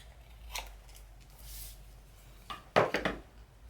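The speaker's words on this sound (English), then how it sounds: "And then I'm going to cut this edge off right here." Scissors snip the edge off a piece of card while making a flower pot birthday card, a faint cut near the start followed by two or three louder, close crisp snips toward the end.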